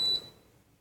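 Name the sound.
beep of a Cascade tower fan turning off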